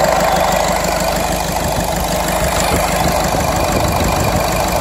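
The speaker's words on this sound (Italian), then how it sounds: "Quindi ora accendiamo il motore e vediamo quanto carburante esce." A Peugeot 107 with a 1.4 HDi diesel engine running at idle during an injector check, a loud, steady close-up rumble with a fine knocking texture and no speech.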